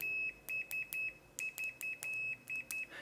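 An AstroAI DM130B digital multimeter gives a run of short, high-pitched continuity beeps in a stuttering, irregular rhythm, each chirp brief and close, with no voices.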